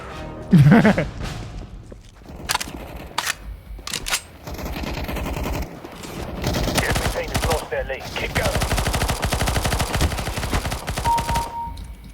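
Video game gunfire crackles in bursts, first a few sharp separate shots, then a long rapid automatic stream, loud and close, with brief snatches of voice near the start.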